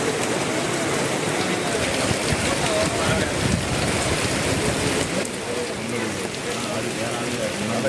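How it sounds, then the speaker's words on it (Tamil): Heavy rain pours steadily over Pattukkottai in Thanjavur district, a dense, loud, unbroken hiss of drops on surfaces that holds for the whole stretch. "தஞ்சாவூர் மாவட்டம் பட்டுக்கோட்டையில் 1/2 மணி நேரத்திற்கு மேலாக பலத்த மழை பெய்தது."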